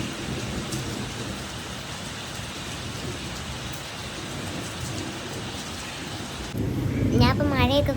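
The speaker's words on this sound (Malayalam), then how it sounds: "കുറേ നാളത്തെ ചൂടിന് ഒടുവിൽ മഴ പെയ്തിരിക്കുകയാണ്." Steady rain falls close by, heard from a balcony after a long spell of heat, a dense even hiss across the whole clip that swells louder near the end, with faint voice-like sounds mixed in.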